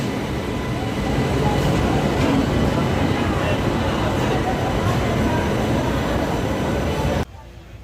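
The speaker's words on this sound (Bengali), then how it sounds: "ট্রেন আমাদের ছেড়ে দিয়েছে এই পনেরো বিশ মিনিট হলো" Passenger train moving along the rails, a loud continuous rumble and rattle heard from on board, holding steady for about seven seconds before cutting off abruptly.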